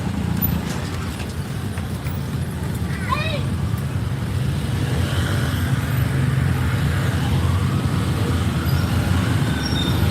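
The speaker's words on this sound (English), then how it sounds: "We're in what's called a tuk-tuk." Riding in a tuk-tuk through heavy Phnom Penh traffic with motorcycles all around: a continuous loud engine and road rumble with steady wind noise and a brief higher squeal, close and unbroken.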